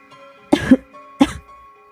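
Two short, sharp coughs close by, the first a quick double burst, then a single cough after a brief pause, over a faint steady hum.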